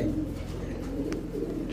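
An old-breed pigeon coos continuously at close range, low and throaty over a steady background hum, with a few faint higher chirps mixed in.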